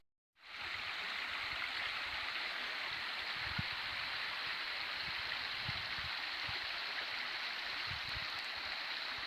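Dalby Beck, a small stream along a woodland trail, flows in a steady, continuous wash of water that stays even and unbroken throughout, with occasional soft low thumps beneath it and no voices.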